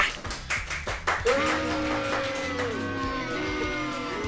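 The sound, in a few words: studio audience clapping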